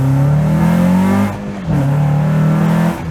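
A Honda Accord Euro with a K24 engine revs hard close by. Its loud exhaust holds a strained, rising drone, dips briefly between gears, then climbs again before cutting off.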